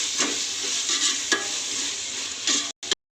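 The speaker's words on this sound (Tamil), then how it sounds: "இஞ்சி பூண்டு பேஸ்ட்டோட பச்சை வாசனை போகிற அளவுக்கு நல்லா வதக்கி விட்டுக்கோங்க." Ginger garlic paste sautés in hot ghee or oil in a pan for ghee rice, a steady close sizzle broken by a few scraping stirs of the spoon, then cut off abruptly near the end.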